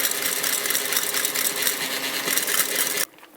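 An electric mixer whirs loudly and steadily as it beats egg whites to stiff peaks for a dacquoise, then cuts off abruptly near the end.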